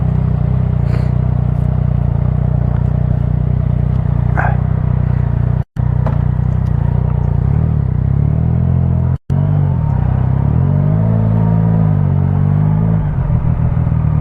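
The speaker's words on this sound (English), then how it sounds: "There's a lot of traffic here." Busy road traffic on a wide road in rush-hour congestion, heard from inside a moving vehicle as a loud continuous engine and road rumble with two brief dropouts.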